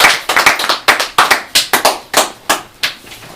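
A church congregation claps in praise of God, about a dozen sharp, close handclaps in a steady, slightly uneven rhythm with no talking.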